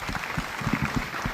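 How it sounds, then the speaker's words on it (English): Audience applause at an official ceremony in a Nairobi conference hall, dense continuous clapping from a crowd, fairly loud and close, with no speech over it. "A round of applause, again, a round of applause, a round of applause."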